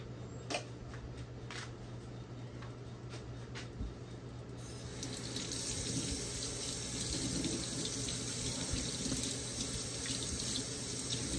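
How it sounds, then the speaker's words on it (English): A kitchen faucet starts running partway through, a steady close rush of tap water splashing into a sink for hand washing, after a quieter stretch of light handling noises. "Let me wash my hands."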